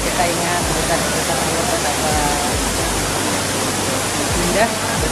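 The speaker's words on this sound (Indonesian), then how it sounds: "kita ke 6 air terjun Lanjoka" Lanjoka waterfall pouring steadily, a loud, continuous broadband rush of falling water close by, with no pauses and no other clear sounds.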